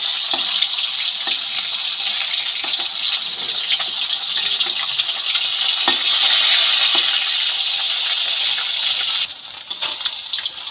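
Small snakehead fish sizzle and spatter steadily in hot oil as they are flipped, a loud continuous frying hiss with a few soft clicks of turning, easing slightly near the end.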